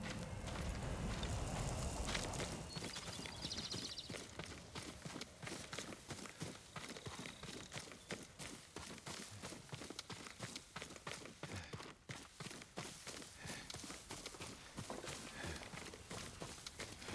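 Horse hooves clip-clop steadily and rapidly across the ground in the video game Ghost of Tsushima, a continuous galloping rhythm that runs unbroken with no voices over it.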